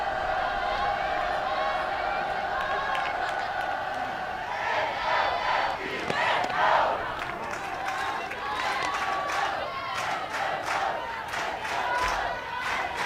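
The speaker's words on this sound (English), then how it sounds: "this crowd has really started to come alive" Crowd cheering and shouting at a college softball game, NC State versus Florida State, a sustained roar that swells midway with scattered claps and yells, under occasional commentator talk.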